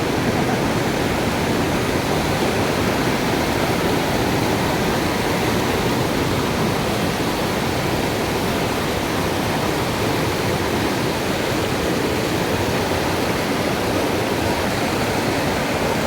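A waterfall in Caquetá, Colombia roars as a dense, constant wash of falling water, loud and close, steady with no pauses and no voices.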